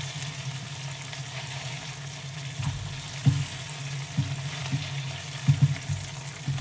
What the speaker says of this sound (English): I like to get the shells cooked and then fry them